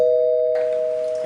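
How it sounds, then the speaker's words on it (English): A doorbell sounds in a stage drama set in a home: a single clear, sustained ringing tone that carries through the short moment and fades slightly as it ends. "There's a bell."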